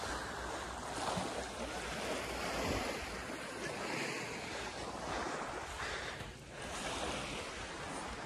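Surf washing steadily onto Mae Nam Beach on Koh Samui, a continuous broadband roar of breaking waves with some wind across the microphone, close and fairly loud with no talking.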